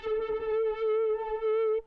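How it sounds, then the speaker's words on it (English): A crusher distortion effect dirtying and saturating a sustained, steady tone in a mixing session, giving a buzzy, harmonically rich drone that holds for nearly two seconds before cutting off. "Let's throw on that crusher."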